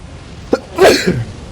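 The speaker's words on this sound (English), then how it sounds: "Hold on, I think I have to sneeze." A single sudden sneeze bursts out, preceded by a short sharp intake, then trails off quickly; close and fairly loud.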